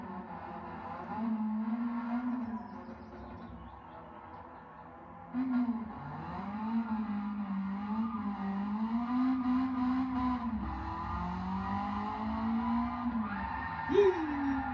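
A small car speeds past, its engine droning loud and steady as the revs rise and dip through several gear changes. A sharp upward sweep comes near the end, and faint voices sit under the engine noise.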